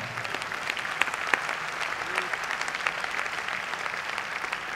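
Audience applause at a kavi sammelan poetry gathering hosted by a Lions Club in Howrah, a steady dense clapping from a large crowd that fills the whole stretch with a few sharper claps standing out.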